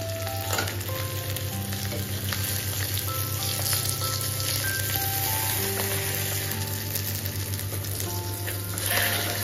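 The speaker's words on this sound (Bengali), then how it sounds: "কড়াইয়ের মধ্যে আমি মাছগুলো দিয়ে এক এক করে ভালো করে লাল লাল করে ভেজে তুলে নেব।" Fish pieces frying in oil in a wok make a continuous, even sizzle that holds steady from start to finish, with faint tonal sounds in the background and no talk.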